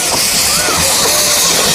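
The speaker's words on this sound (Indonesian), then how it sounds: "rupanya kereta apinya bisa berjalan teman-teman" A small battery-powered toy train runs around its track among toy animals and cars, giving a continuous close-up mechanical whir and hiss with no pauses.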